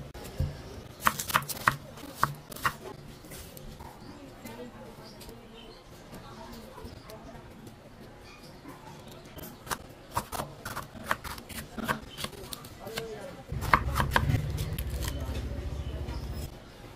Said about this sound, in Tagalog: isa-set aside lang muna natin habang hinihiwa natin yung ating mga gulay.